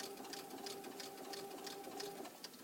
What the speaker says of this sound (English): It gets a little bit maybe out of alignment here when I'm just trying to sew 2 pieces of cotton together.